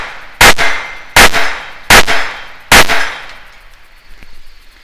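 Five suppressed shots of CCI 22LR hollow point ammunition, sharp metallic cracks spaced under a second apart, each followed by a brief ringing decay, then quiet range ambience.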